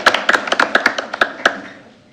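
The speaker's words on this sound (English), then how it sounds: "a round of applause for her family who are here." A small audience at a school board meeting claps briefly for a senior's family. The claps are sparse and uneven, come close together at first, then thin out and fade to quiet within two seconds.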